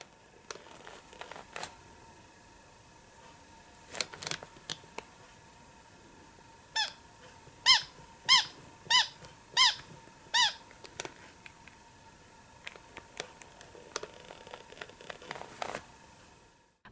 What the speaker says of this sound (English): But mine only makes a short squeak sound.